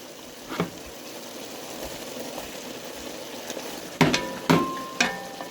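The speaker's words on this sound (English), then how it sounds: "And sauté for about 5 minutes." Onions and celery sautéing with garlic in a stovetop pot for beef stew: a faint, steady low sizzle, punctuated near the end by a few sharp clinks of a utensil stirring against the pot.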